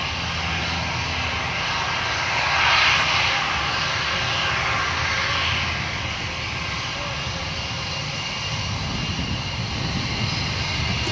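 A Jetstar Airbus A320neo jet takes off from Gold Coast Airport, its steady engine roar building slightly and then rumbling on at a moderate distance throughout.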